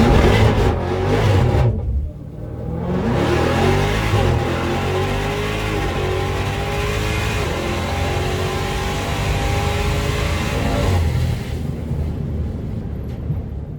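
A Dodge Demon 170 blasts down a drag strip at a big Mopar event, its engine roaring loud and continuous at full throttle for most of the run, with rising gear-pull sweeps after a brief lull near the start.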